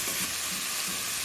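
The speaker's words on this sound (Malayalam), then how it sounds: "ചിക്കന് ഇട്ടിട്ട് നന്നായിട്ട് ഇതിൻ്റെ മസാല എല്ലായിടത്തും വരുന്ന രൂപത്തിൽ ഒന്ന് ഇളക്കി കൊടുക്കണം" Chicken with masala being stirred in a frying pan, making a brief, even hissing sizzle up close with no talk.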